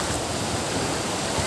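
Strong ocean surf at Bagasbas Beach in Daet, Camarines Norte: a loud, unbroken roar of crashing waves that fills the short moment with no pauses.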